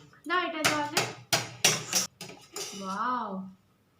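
A spoon clinks against a bowl and a plate at home while serving sweet milk pitha: a few sharp metallic taps mixed in with voices talking close by.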